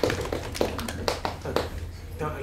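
Scattered audience applause after a hip hop theatre talk, a few distinct claps over a room murmur and speech-like voices, moderately loud and uneven across the short stretch.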